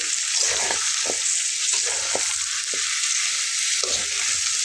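Chunks of potato frying with beef tripe in a pan produce a loud, continuous sizzle, with regular scraping stirs and knocks of a utensil against the pan every half second or so; no voices.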